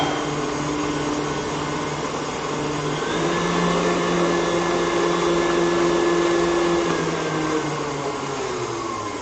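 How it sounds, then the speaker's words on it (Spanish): An electric mixer whirs steadily, beating egg yolks with sugar and vanilla for a tres leches sponge cake, a continuous close motor drone with a slight pitch rise partway through. "Entonces le agregamos la vainilla y otra vez vamos a batir."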